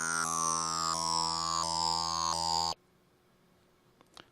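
A sync lead patch from the Massive synthesizer with a sawtooth crossfade plays a loud sustained buzzy tone with small pitch steps for under three seconds, then cuts off to near silence.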